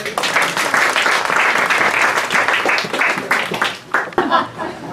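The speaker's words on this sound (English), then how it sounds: "Give a round of applause." A dense burst of audience applause at a memorial gathering, loud and steady for about four seconds before thinning out, with a little laughter and chatter mixed in at the end.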